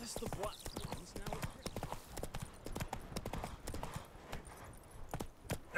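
Roach, Geralt's horse in the open-world game The Witcher 3: Wild Hunt, trots along a road with steady, rhythmic clip-clopping hooves close by, while voices talk over the hoofbeats throughout.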